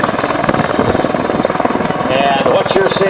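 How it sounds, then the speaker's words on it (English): A Bell Boeing MV-22B Osprey tiltrotor throbs loudly with a steady pulsing rotor chop at an airshow as its nacelles tilt into helicopter mode. An announcer talks over the noise throughout. "Convert from high speed and long range airplane configuration into vertical takeoff and landing configuration in just seconds."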